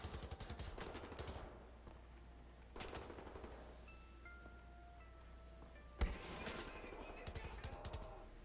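Full-magazine bursts of automatic gunfire in Wolfenstein: The New Order, three loud rapid-fire volleys separated by quieter pauses with faint beeps and game ambience, one sharp thump between bursts.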